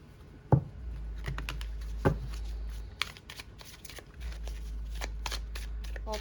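A deck of cards is handled and shuffled up close, with crisp riffling bursts, flicks and light taps on a surface, over a faint low hum and no speech.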